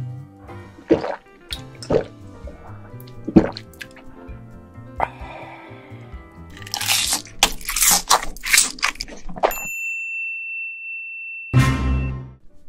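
Raw Dokdo shrimp and spiny lobster being eaten up close: wet drips and squishy bites give way to a burst of loud, dense crunching. A brief high tone and a final crunch come at the end.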